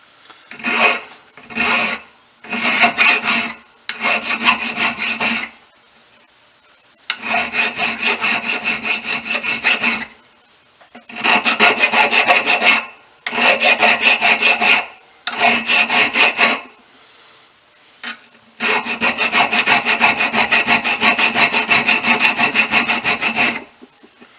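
Close, loud rasping of a hand file taking sharp edges off a handmade leather-working tool, in long steady back-and-forth strokes that come in bursts separated by brief silent pauses.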